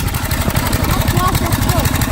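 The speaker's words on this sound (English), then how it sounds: "we're out here just letting it idle real quick, and then Jaden's gonna take off" A small engine idles steadily in a garage setting, a continuous low rumbling throb that fills the clip, with a voice speaking over it.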